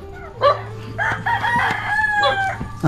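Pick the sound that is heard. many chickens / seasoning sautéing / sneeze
many chickens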